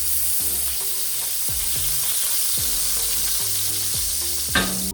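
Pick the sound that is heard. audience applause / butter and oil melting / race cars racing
butter and oil melting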